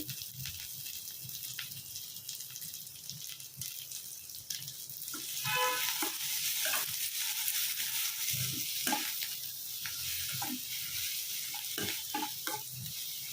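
Grated raw mango for mango pulihora fries in a pan with a soft, steady sizzle, and scraping and tapping from stirring grows busier partway through.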